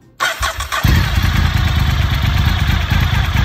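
A Honda VTR1000SP-2 motorcycle being started after an oil filter change with the oil overfilled, a short starter whir catching into a loud, close, rumbling idle that stays steady to the end.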